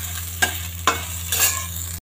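Dried red chillies fry in oil in a pan. A continuous sizzling hiss runs under three distinct scraping stirs, then stops short, with no voices.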